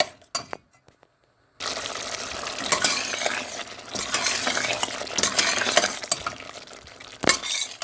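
Beef masala fries in a pan while being stirred, a steady loud sizzle broken by repeated scraping and clinking strokes of a spoon, after a brief quiet moment with a few knocks.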